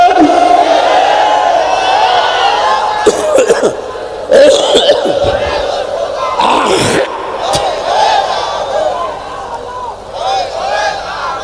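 A large crowd of men at an Islamic waz sermon chants the takbir in loud, swelling unison, with a few sharp bursts and coughs breaking through the sustained chorus.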